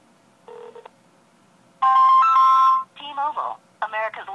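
A Verizon Motorola Droid on a T-Mobile SIM calls 611 on speakerphone, giving short electronic tone bursts, then a longer ringing tone and a loud, clear automated voice.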